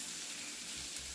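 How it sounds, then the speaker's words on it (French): Rfissa dough sizzling faintly in a pan of hot oil, a soft, steady hiss with no other sound over it. "je mets un peu d'huile dans la poêle et je la pose dedans"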